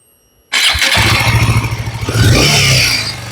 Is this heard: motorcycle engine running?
yes